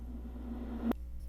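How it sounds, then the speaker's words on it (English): A reversed high tom with reverb swells up in a smeared tone and cuts off abruptly near the end, faint and alone over a low rumble. "I played it in reverse and added a reverb to it."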